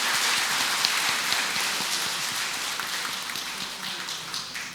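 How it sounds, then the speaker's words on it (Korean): A church congregation gives a visiting seminarian a dense, even round of applause, a soft patter of many hands filling the nave without voices. "저희 본당에 찾아주신 예비 신부께 박수 보내시기 바랍니다"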